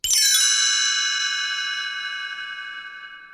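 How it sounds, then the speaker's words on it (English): A single bright read-along chime rings once, its clear bell-like tones starting sharply and fading slowly over a few seconds, alone with no voices. "You will know it is time to turn the page when you hear the chimes ring like this."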